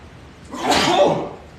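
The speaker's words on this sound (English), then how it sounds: "And that was a sneeze. That's my sneeze." A person sneezes once, a single sharp close burst of breath lasting under a second, heard alone in a quiet room.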